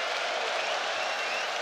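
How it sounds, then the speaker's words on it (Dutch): Steady, dense applause from a football stadium crowd during an FC Utrecht versus VVV-Venlo match, a continuous wash of clapping heard at a distance without a distinct voice over it. "Applaus van het publiek"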